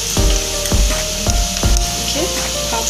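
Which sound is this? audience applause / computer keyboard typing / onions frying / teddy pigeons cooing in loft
onions frying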